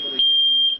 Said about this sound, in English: and checked the fire alarm